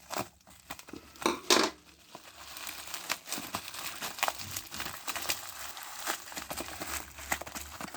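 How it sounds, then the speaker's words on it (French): Packaging around a vintage toy crane truck is crinkled and torn open close up, with bursts of crackling plastic and cardboard and some rustling handling in between. "Je vais essayer de le déballer."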